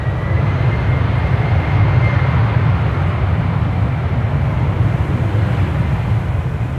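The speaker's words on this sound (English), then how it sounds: "this is a KLM Embraer 190" A KLM Embraer 190 jet departs Amsterdam Schiphol, its engines a loud, steady, close roar with deep low rumble that holds without a break.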